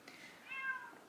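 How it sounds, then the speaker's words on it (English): A stray cat at a door gives a single soft, fairly faint meow that rises and falls, with no one talking. "it would not stop meowing at the door"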